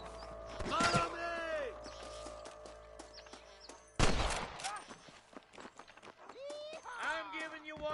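Gunfire in the Red Dead Redemption video game, with loud sharp shots near the start and again around the middle, mixed with horse hooves, footsteps and shouted voices.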